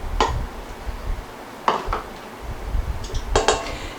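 A utensil stirs flour into an ice cream cake crust mixture in a bowl, giving a few sharp clinks and scrapes at uneven intervals against a low, steady background.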